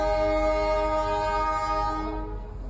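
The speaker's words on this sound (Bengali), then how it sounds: "পুরাই ফাঁকা টয় ট্রেন।" An empty toy train passes nearby with a loud, sustained horn-like tone that holds steady and then cuts off near the end, with no talk.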